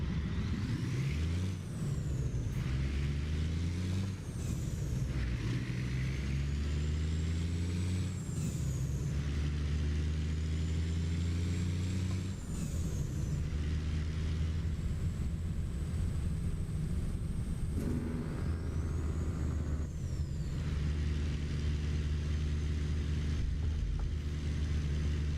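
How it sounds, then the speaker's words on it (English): A Kenworth K100 cabover truck in American Truck Simulator, its engine droning loud and steady with rising and falling gear pitches, punctuated by sharp hissing air brake releases. "roll the windows down, so you guys really hear the sound of the truck"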